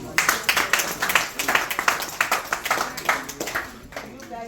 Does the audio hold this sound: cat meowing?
no